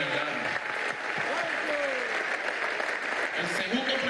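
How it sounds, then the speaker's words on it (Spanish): Steady applause from a crowd fills the space, with some voices faintly audible beneath the clapping. "Desde aquí le damos un aplauso por su memoria eterna"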